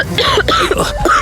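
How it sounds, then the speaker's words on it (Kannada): A woman coughs in a quick burst of several harsh, close coughs and throat clearing from pungent tempering fumes in a home kitchen. "ಘಾಟು, ಅದರಿಂದ ಕೆಮ್ಮು ಬರ್ತಿದೆ."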